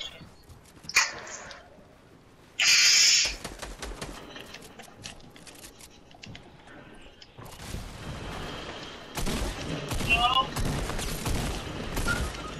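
A multiplayer video game shootout: scattered gunshots and bursts of fire, some sharp and close and others distant, mixed with game noise, voices talking over part of it.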